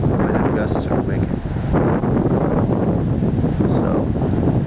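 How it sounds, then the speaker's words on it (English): Strong gusts buffet a small sailing boat, roaring steadily across the microphone in a continuous, blustery rush with swells of louder blasts, while a voice can be heard briefly under the wind. "The wind itself is you know, sustainable, but the gusts are wicked."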